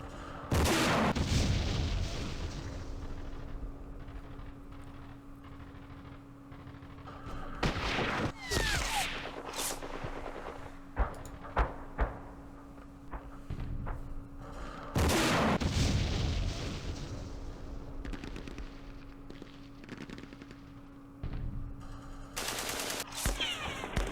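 Machine-gun bursts and gunfire in a Vietnam War strategy game set at Ba Ria in 1968, with several loud volleys and booms separated by quieter stretches, a steady hum underneath.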